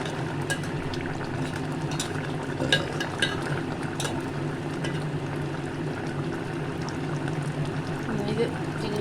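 Potatoes stirred in a simmering prawn and eggplant curry, with soft scraping and bubbling in the pot under a steady kitchen hiss and a few light clinks.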